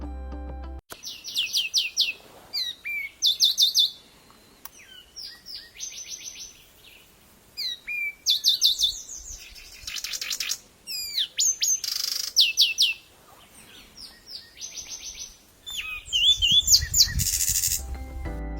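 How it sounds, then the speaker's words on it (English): A Zapata Wren sings alone in a swamp, a loud, complex series of rich bubbling trills and harsh chattering notes, delivered in repeated bursts separated by short pauses, clear and close. "Its song is a loud, complex series of rich, bubbling trills and harsh, chattering notes"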